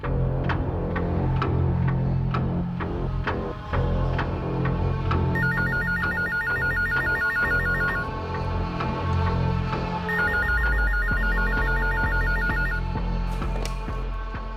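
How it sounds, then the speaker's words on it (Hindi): A telephone rings in two repeated bursts of electronic trilling over a steady low hum and background noise. "अज्ञात औरत का फोन कॉल दोबारा आया"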